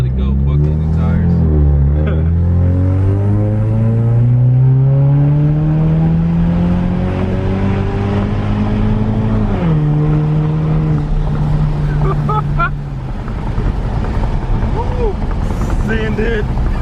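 A straight-piped Ford Mustang fitted with a cold air intake accelerates hard, its loud, raw exhaust climbing steadily in pitch through long pulls and shifts, close and dominating throughout.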